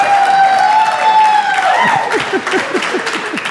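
Comedy club audience at a stand-up show breaking into applause and some cheering, a loud burst of clapping that fades into scattered claps beneath a man's speech.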